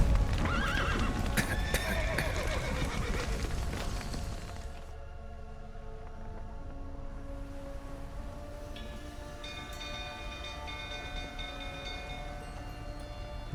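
Horses in The Witcher 3 video game whinny and neigh over clip-clopping hooves, loud at first, then fading into quieter game ambience with a ringing tonal layer.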